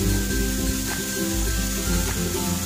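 Mushrooms sautéing in a pan for hot and sour soup, a steady close sizzle with faint stirring scrapes and no talk.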